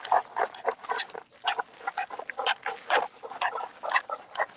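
Several contestants in a fire-making challenge scrape furiously to throw sparks, producing a rapid, irregular string of harsh, squealing rasps, close and busy.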